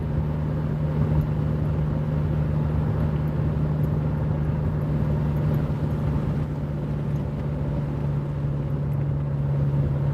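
A car engine drones steadily while driving, a constant low hum mixed with road rumble that never lets up. No voices are heard.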